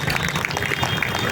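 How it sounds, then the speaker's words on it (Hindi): An audience at a political rally claps for an arriving opposition leader, a steady patter of applause heard close and continuous. "जोरदार तालियों से उनका स्वागत करें।"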